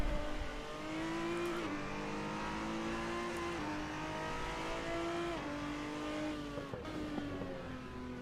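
A race car engine in Assetto Corsa, driven on a Fanatec Podium DD1 wheel, holds a steady loud drone with repeated revs and pitch drops at each gear change, continuous and close.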